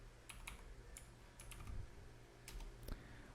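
Soft keystrokes on a computer keyboard as an nslookup command is typed at a command prompt, a few quick clicks in short bursts over a faint steady hum.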